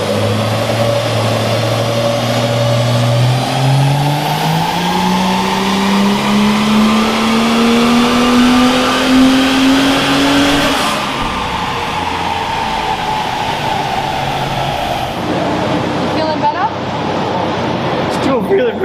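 A Ford XR6 Turbo ute with a GTX3582R gen2 turbo on E85 revs up on a dyno, the engine pitch climbing steadily through a long loud pull before dropping off near the end.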